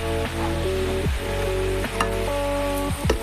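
Whole spices hit hot oil for a vegetable dalna with a continuous, fairly loud crackling sizzle over a steady tonal hum, with a few sharper pops near the end.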